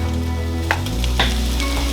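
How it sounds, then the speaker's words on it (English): Water boils in a pot on the stove for ramen, a loud, continuous bubbling hiss with a few small pops and no voices. "And I have boiling water on this other pot."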